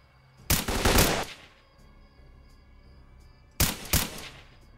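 Two loud, close bursts of rapid automatic gunfire from S.T.A.L.K.E.R. Clear Sky, separated by a few seconds of quiet ambience with faint ticking.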